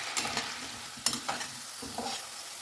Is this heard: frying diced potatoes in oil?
yes